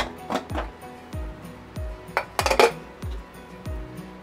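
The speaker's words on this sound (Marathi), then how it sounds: "आपण ना कुकर खोलून घेऊया." Metal pressure cooker lid and steel pots clinking and clanking in a home kitchen after the cooker has whistled three times, a series of sharp knocks and rattles spread across a few seconds, fairly close.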